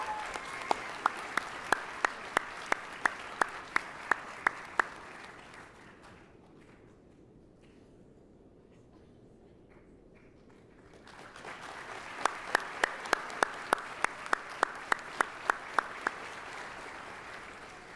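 Audience applause at a university chemical and biomolecular engineering graduation ceremony, a moderate wash of clapping with sharp individual claps, fading to near silence midway, then swelling again.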